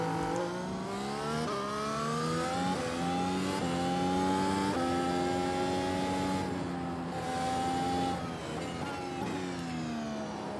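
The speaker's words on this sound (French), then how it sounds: "On met en route la voiture." A Mercedes W13 Formula 1 car in the iRacing simulator pulls away, its high-pitched engine screaming up through the revs in rising sweeps, briefly dropping at each gear change, loud and continuous.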